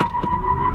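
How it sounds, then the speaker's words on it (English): A MINI Cooper SE, the electric front-wheel-drive model, spinning its front wheels: a short, close, steady whine with road rumble underneath, lasting under a second. "I'm going to try that again because it really felt like it was wheel spin"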